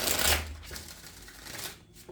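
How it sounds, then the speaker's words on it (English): Tarot cards are shuffled close up in a short burst of papery riffling, followed by softer sliding and tapping of the deck. "Okay, one last shuffle,"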